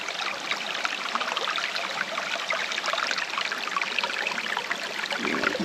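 Creek water running over slippery rocks at Rattlesnake Falls in State Game Lands 221 as hikers wade through, a steady close rushing and trickling that continues without voices.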